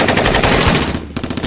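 Police officers opening fire on a car as it tries to drive away: a short, loud, rapid burst of gunfire with a brief gap before more shots.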